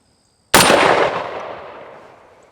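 A Sig Sauer MCX Spear battle rifle fires a single shot as the trigger breaks: one loud, sudden blast that rings out and decays over about two seconds, alone with no talk.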